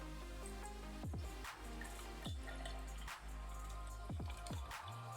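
GFuel Glitch Mix energy drink is poured from a can into a cup, a quiet close-up of liquid glugging and dripping in several uneven bursts, with faint fizz between them.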